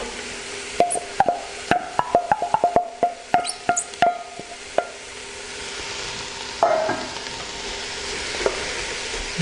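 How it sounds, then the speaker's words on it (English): Diced carrots and sliced leeks being stirred in a pan of softened vegetables for tomato and chickpea soup, with a close flurry of sharp scraping clicks and knocks, then a quieter steady sizzle with a few more scrapes. "There's a little bit of a stir in."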